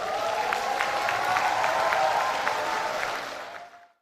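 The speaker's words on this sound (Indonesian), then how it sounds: "Kita berikan aplaus yang meriah." A crowd at a polytechnic graduation ceremony claps in loud, dense applause that holds steady and then fades away over the last second.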